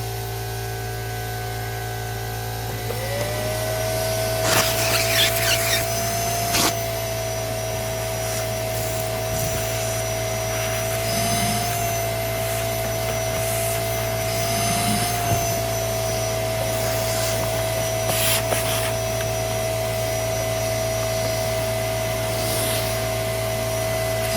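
A clogged Eureka PowerSpeed vacuum cleaner runs with a loud, steady motor whine and a constant hum, with scattered bumps and rattles over nearly half a minute.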